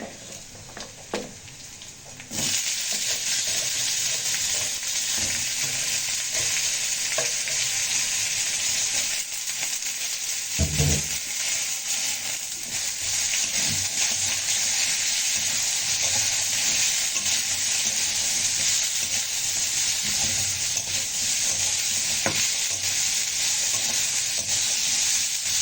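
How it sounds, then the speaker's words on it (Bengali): Sliced drumstick pods and potato frying in a pan with onion and garlic, a continuous loud sizzle that jumps up after a quiet opening, broken by a few stirring scrapes and clatters near the middle, with no talking. "এখন এই যে সজনে ডাঁটা আর আলু কেটে রেখেছিলাম, এখন এটা দিয়ে বেশ কিছুক্ষণ নেড়ে চেড়ে নেব।"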